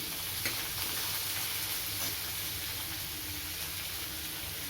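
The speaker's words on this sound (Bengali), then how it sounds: "এবার আমি এখানে পেঁয়াজ কুঁচো দিয়ে দিচ্ছি" Chopped onions drop into hot oil tempered with crushed garam masala and sizzle in a steady, close hiss with light stirring scrapes throughout and no voices.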